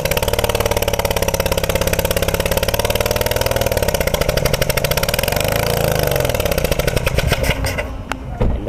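A car engine runs loudly and close at a fast, even firing rhythm, its pitch dipping and rising slightly before the sound thins out near the end.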